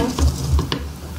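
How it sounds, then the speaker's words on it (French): A spoon stirs melted chocolate and butter in a pan for chocolate cake, giving a few soft scraping strokes and light clinks up close against a faint sizzle. "On mélange encore le chocolat et le beurre pour que ce soit tout bien fondu"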